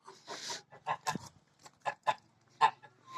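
A goose calls in a village farmyard, giving a series of short, irregular honks and clucks spread across a few seconds. The calls are fairly close and stand alone, with no talking.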